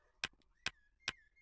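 Three sharp clicks from a custom gun firing in a video game, evenly spaced about half a second apart, crisp and close against a faint background hum.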